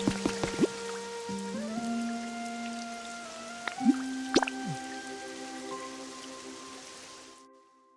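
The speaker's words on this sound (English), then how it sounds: "Will it still be raining over here?" Rain dripping in the Pokémon Pokopia video game, a few sharp plinking drips ringing over sustained tonal game music that fades out toward the end, with no voices.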